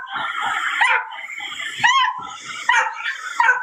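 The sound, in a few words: distressed dog whimpering and barking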